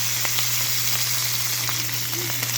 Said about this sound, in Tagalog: Ating binawasan ng mantika, tapos nga ibabalik na uli natin ang ating pork.